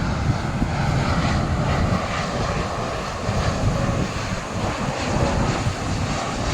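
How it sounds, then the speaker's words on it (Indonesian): A Lion Air airplane passing overhead near Yogyakarta airport, a loud continuous jet engine roar with wind buffeting, steady throughout. "itu ada pesawat Lion"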